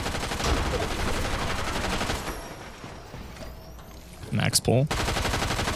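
Dense automatic gunfire rattles in a Fortnite match, rapid and loud, dropping away briefly before a few sharp bursts and more fire, with a voice speaking over it.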